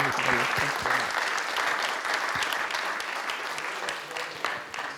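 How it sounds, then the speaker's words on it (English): Audience applauding the panelists at the close of a student event, a full, even patter of many hands clapping that runs steadily and fades slightly toward the end. "can we just give a round of applause to all our panelists?"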